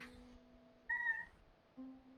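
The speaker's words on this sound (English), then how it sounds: "No, look at the kitty." A pet cat gives a couple of short, faint meows in a quiet room, with no one talking.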